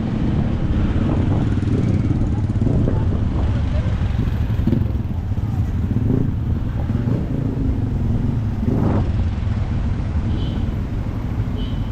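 Dense city street traffic, cars and motorcycles idling and creeping along in a jam, a constant close engine rumble with occasional revs and passing swells.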